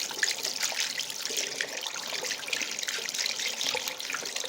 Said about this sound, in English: let's run some hot water in the bathroom